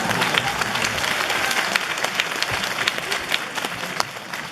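A church congregation claps during a carol event, a steady, fairly close patter of many hands with sharp individual claps standing out, carrying on without a break.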